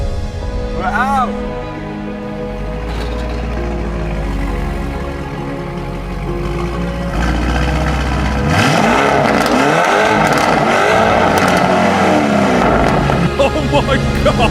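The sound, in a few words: Lamborghini Urus engine driving out after rebuild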